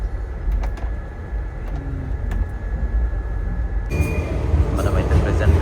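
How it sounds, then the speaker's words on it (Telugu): The Chennai Mangalore Mail, train 12602, rumbles along steadily after starting out near Palakkad Junction in Kerala, with a constant low roar and thin tonal hum that grows louder and brighter toward the end. "ఇక్కడ నుంచి కూడా మన ట్రైన్ అయితే స్టార్ట్ అయిపోయింది."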